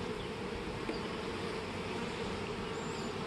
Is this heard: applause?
no